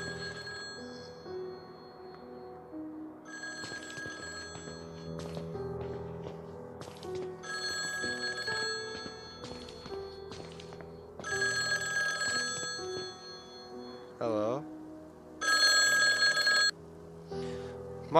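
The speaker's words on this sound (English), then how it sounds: "The phone is ringing." A telephone rings in the horror video game Mental Hospital IV: Alice Madness, repeated bursts of loud electronic ringing over a steady musical background, growing louder toward the end.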